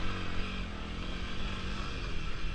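Honda CRF300L dual-sport motorcycle engine roaring on a dirt trail, a loud, close, continuous drone held at steady revs under the rider, no talking.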